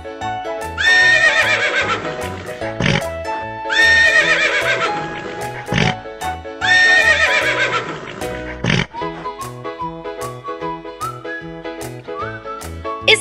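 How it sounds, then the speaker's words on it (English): Three loud horse whinnies, each a shrill descending call, separated by short pauses, with clip-clop hooves and a musical backing throughout. "It's the sound of horse."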